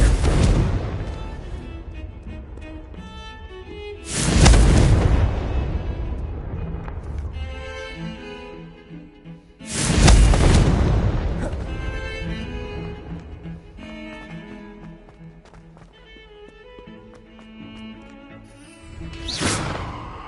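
Confringo fire spell blasts in the Hogwarts Legacy video game: three sharp explosive bursts at intervals, each a loud crack with a booming tail that fades over several seconds, amid game sound effects and music.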